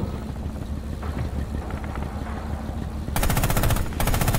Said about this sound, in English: Jumping back down onto the machine gun.